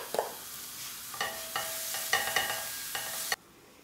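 Onions and carrots stewing in ghee in a pan, a soft sizzle broken by a few stirring scrapes and clinks at uneven intervals, ending abruptly.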